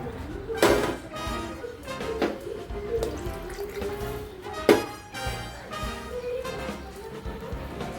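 Cooked moth bean water is poured into a curry for Kolhapuri misal in a home kitchen, a steady liquid pour with a few sharp clinks and splashes over eight seconds, no talk.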